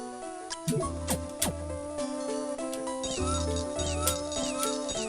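Attack kitten enemies meowing in the Castlevania: Aria of Sorrow video game, short cat cries mixed into layered game music and sound effects, fairly quiet against the busy soundtrack.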